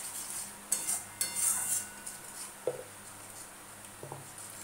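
A utensil scrapes and clinks against a pan as salt, turmeric and chilli powder are stirred, giving a few soft scraping strokes and light metallic taps, close and fairly quiet with no talking.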